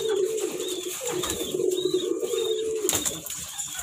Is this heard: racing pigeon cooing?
yes